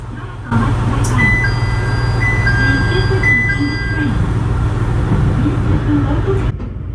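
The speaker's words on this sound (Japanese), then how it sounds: "那覇里駅を19時9分に発車する普通列車の高知行きです。" A local train bound for Kochi departs Nahari station, with a steady low rumble throughout, high tonal whines and chimes rising and falling above it, and occasional voices underneath before the sound cuts off.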